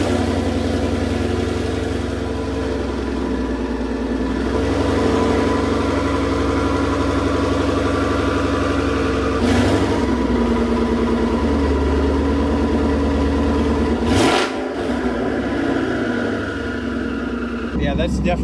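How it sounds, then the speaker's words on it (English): A twin-turbo car fitted with a Corsa Performance Double H-pipe exhaust starts up and idles with a deep, loud, steady drone, broken by a couple of sharp revs near the middle and toward the end. "The world's first startup of the Corsa Double H on a twin turbo car."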